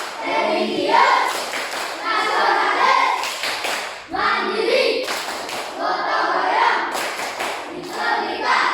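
Children in a classroom perform a rhythmic clapping routine, bursts of hand claps repeating in steady patterned groups with brief pauses between phrases, close and fairly loud.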